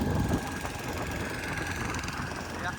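A steady, loud boat engine drone runs throughout on Pulicat Lake, with a constant hum and rushing noise of a motorboat under way.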